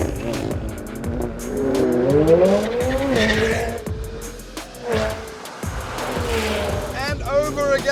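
A McLaren 720S skids with sustained, wavering tyre squeal over a revving engine, loud and close, repeated through the stretch as a voice talks over it.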